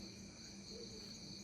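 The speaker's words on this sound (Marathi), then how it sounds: "फक्त ओरडतात ते रातकिडे." Crickets chirp in a steady, high continuous drone, faint and distant, like a quiet night outdoors, at a Konkan village in Maharashtra at 7:45 in the evening.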